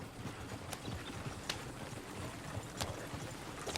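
Horse hooves clip-clop in the Red Dead Redemption 2 video game, a few sharp, fairly faint hoof strikes spaced irregularly over a soft background hiss.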